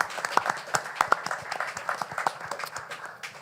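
Scattered applause from a small press conference audience for a basketball team's introductory event, individual claps audible as distinct sharp hits at moderate distance, fairly quiet and uneven rather than a full roar.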